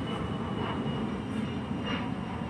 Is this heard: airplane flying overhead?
yes